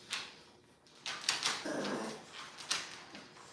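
Dogs growl, yip and whimper while playing and chasing, in short close bursts with brief pauses, fairly faint and with no talk.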